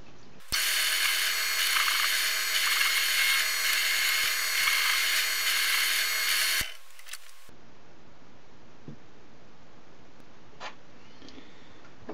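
A power drill whines steadily for about six seconds while boring screw holes in a 1/16-scale model conversion, then stops abruptly, leaving quiet room tone with a few faint clicks.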